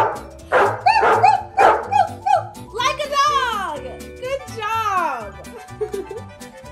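A child imitates a dog barking, giving a run of loud voiced woofs followed by longer whining, howl-like calls, all from a young voice close to the microphone.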